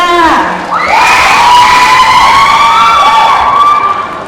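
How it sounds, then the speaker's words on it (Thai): A big crowd cheers and shouts loudly and continuously, with high, excited voices carrying over a steady roar of applause, at a Thai TV series launch event. "ขอเสียงปรบมือคุณโยโกะด้วยค่ะ"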